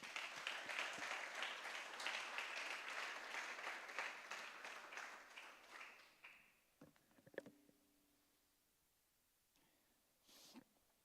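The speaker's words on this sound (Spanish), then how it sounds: "Dale un aplauso al Señor." A church congregation applauds, with dense clapping for about six seconds that then thins out into a few scattered claps and small noises.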